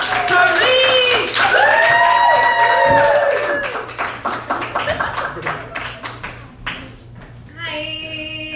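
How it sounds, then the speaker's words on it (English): Audience clapping at a live body-talk show, building from a cheering, shouting crowd into a spread of scattered claps, with a voice speaking over it near the end. "So please put your hands together, start clapping."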